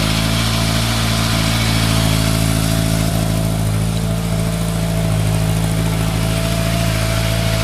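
A Yamaha Thunderace motorcycle engine runs steadily at idle, close and continuous, with a fairly even mid-pitched hum and no talking over it.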